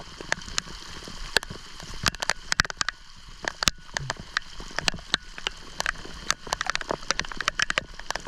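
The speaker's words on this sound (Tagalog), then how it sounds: "Lakas ng ulan." Heavy rain pours steadily in a broad, constant wash, with frequent sharp drips and taps striking nearby surfaces throughout; no voices are heard.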